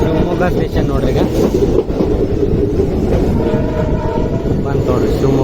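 Diesel-hauled Shivamogga–Mysuru Express 16226 rolls along loudly, wheels clattering in a dense rhythmic rumble with a brief horn-like tone, close by and continuous, voices faintly mixed in.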